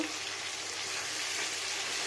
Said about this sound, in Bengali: এবার এটাকে নাড়া দেব